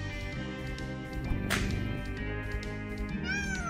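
A cat meows loudly in the video game I Am a Cat, one sharp cry rising over a steady, busy musical background, with a higher wavering mew near the end.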